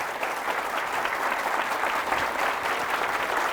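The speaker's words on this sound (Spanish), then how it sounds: "Fuertes aplausos al Rey de Reyes," Congregation in a church breaks into sustained applause for the Lord, a steady dense wash of many hands clapping at close range with no talking over it.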